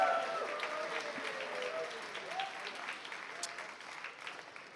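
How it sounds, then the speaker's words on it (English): Audience applause at a student guild election results night, a continuous wash of clapping in a large room that stays fairly even throughout, with faint voices and a stray whistle underneath. "Can we get a round of applause for all the candidates for their hard work?"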